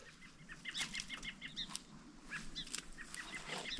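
Birds call repeatedly in the distance over a wetland beside a meadow, honking and chirping over a quiet outdoor background, with no voices.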